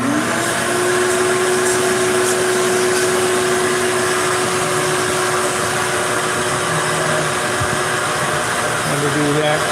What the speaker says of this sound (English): I'm sure you can hear the vacuum.